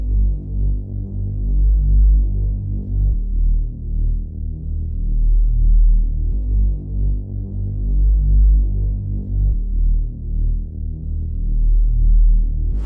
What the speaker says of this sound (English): it's a regular sub bass. This is what it sounds like.